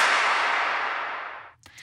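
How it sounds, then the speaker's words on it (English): A single huge clap lands hard and decays slowly over about a second and a half as a long, washy tail, then a faint short tick follows. "every other backbeat, I add this huge clap in here."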